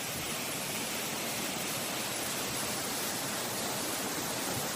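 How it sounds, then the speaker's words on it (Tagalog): Strong rush of water inside Inahagan cave after rain, a steady broadband roar like a waterfall or swollen stream, continuous and fairly close for the whole stretch with no voices over it. "Sa ngayon, malakas yung tubig kasi nga umuulan."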